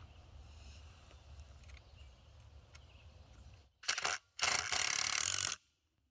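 Decking screws are driven through metal sawhorse brackets into 2x4 legs in a hilly outdoor clearing: two loud, close power-driver bursts after a quiet stretch, the second longer and steadier.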